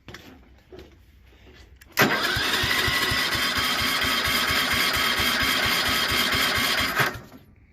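Small 8hp engine on a 1973 Wheel Horse four-speed garden tractor cranks over on its starter, a loud, fast, even chugging that runs for about five seconds and then stops, with quieter clanks before it begins.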